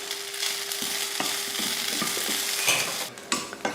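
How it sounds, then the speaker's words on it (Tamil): Onion, ginger, garlic and grated coconut sautéing in oil in a pan, a steady close sizzle with repeated scraping stir strokes and light clinks throughout. "கொஞ்சம் எண்ணெய் ஊற்றி இதை வதக்கிடலாம்"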